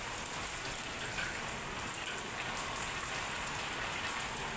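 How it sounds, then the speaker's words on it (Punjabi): Heavy rain driven by strong wind that sets trees swaying, a loud, unbroken broadband hiss that stays steady from start to finish with no voices. "ਦੇਖ ਲਓ ਹਵਾ ਵੀ ਬਹੁਤ ਤੇਜ਼ ਚੱਲ ਰਹੀ ਹੈ, ਕਿਵੇਂ ਬਿਰਖ ਹਿੱਲਣ ਲੱਗ ਰਹੇ ਨੇ, ਅਤੇ ਬਾਰਿਸ਼ ਵੀ ਕਿੰਨੀ ਤੇਜ਼ ਹੈ।"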